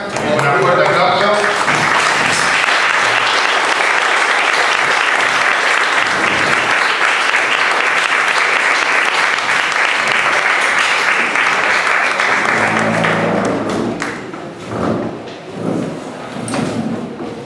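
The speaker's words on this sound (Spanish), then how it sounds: "le damos la despedida de Estela. Un fuerte aplauso." A seminar audience gives a long, dense round of applause as a farewell for Estela. Steady, loud clapping fills most of the stretch, then thins into scattered claps and murmuring near the end.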